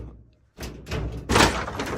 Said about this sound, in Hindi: ये देखो दरवाजा तोड़ने की कोशिश कर रहे हैं।